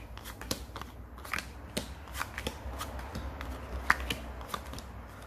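Playing cards being cut and dealt, soft close-up snaps, flicks and light slaps of card on card in an irregular sequence, quiet and without talk.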